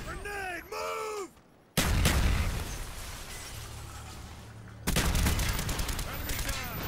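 In a search-and-destroy round of a shooter video game, a sudden heavy grenade blast erupts after brief shouting, followed by a roaring rumble and then a dense stretch of rapid gunfire, all loud and close.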